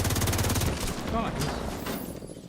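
A quick rattle of rapid automatic gunfire from the player's weapon in a Division-style shooter runs for under a second, then fades into ambient game sound and muffled background noise.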